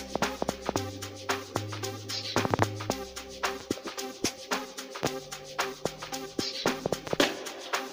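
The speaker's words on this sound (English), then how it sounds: "It's just a nice log drum, like a sub log drum." An amapiano sub log drum sample plays in FL Studio Mobile as deep, pitched booming bass notes in a rhythmic pattern over crisp clicking percussion, with no voices.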